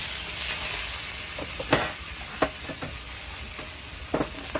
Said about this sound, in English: So I have some Chinese vegetables. I'm just going to stir fry a little bit.